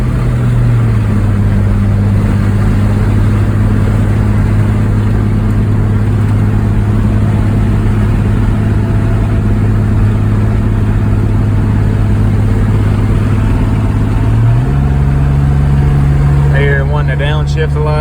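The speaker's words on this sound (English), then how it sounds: "There it goes, shifting in the from second to third." A car's automatic transmission shifts from second to third gear while driving, the steady engine drone dropping to a new pitch partway through, with a voice talking over it.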